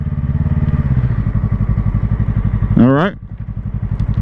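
Motorcycle engine idling with a steady pulsing rhythm, then revving briefly as the clutch is let out and the bike pulls away, with someone speaking briefly over it.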